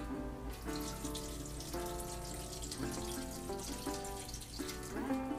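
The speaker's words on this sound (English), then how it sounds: "So I'm going to get this filled up with water." Tap water running steadily into a pot for turtle soup, a constant rushing stream with the pitch shifting upward as the pot fills, close and moderately quiet.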